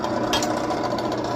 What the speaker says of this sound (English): I'm just going to drill a few holes there, just to screw it to the wall using the drill press